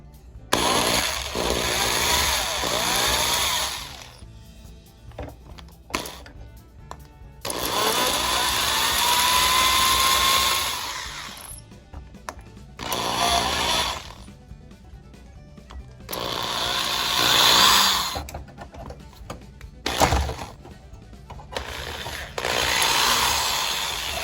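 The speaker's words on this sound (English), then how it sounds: "drilling the rivet out might work better" A power drill whines in several long bursts drilling out a rivet on a postwar Lionel FM Trainmaster model locomotive, stopping and starting between stretches of quiet, close and loud throughout.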